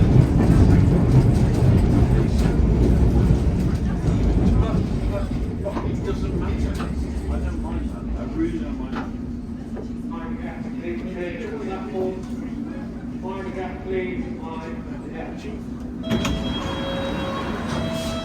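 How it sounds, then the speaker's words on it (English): A London Underground tube train rumbles loudly on the line between London Bridge and Paddington, then quiets as it stands at a station, where a recorded announcement and a passenger's voice are heard. "This train is now ready to depart."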